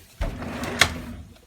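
A wooden spice cabinet door in a kitchen swings open with a soft thud and a brief click partway through, quiet and close, with no talking.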